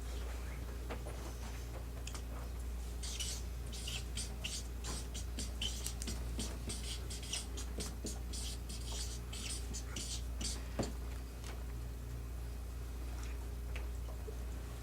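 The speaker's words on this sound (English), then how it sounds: "I'm going to write that down." Marker or chalk scratches out words on a board during a talk, a run of quick, faint strokes in bursts over a steady room hum.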